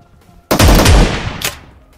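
Shotgun fire in the mobile game PUBG Mobile: a loud, close blast rings out and decays, then a second sharper shot follows about a second later before the sound fades.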